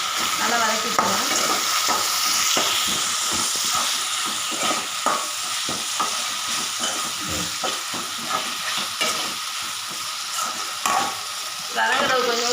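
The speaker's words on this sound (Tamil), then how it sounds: "தக்காளி போட்டு நல்லா வதக்கி விட்டுருவோம்." Tomatoes sauté in a hot pan with a continuous loud sizzle, while frequent rhythmic scrapes of a spatula stir them up close for several seconds, no talking.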